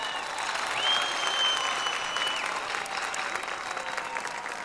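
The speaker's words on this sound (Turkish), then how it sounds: "O halde bir moral alkışı verelim Sevtu'ya." A karaoke game-show studio audience claps for a contestant, dense continuous applause filling the whole stretch at an even level before easing slightly toward the end.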